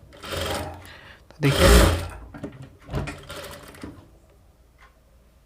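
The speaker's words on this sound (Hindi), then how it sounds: "तो हमने इसे इस तरीके से रखा और इसे हम सीना शुरू कर देते हैं" A sewing machine stitching a princess cut blouse runs in short whirring bursts, loud and close, with pauses between runs and someone speaking briefly at the start.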